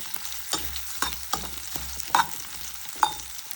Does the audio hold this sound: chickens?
no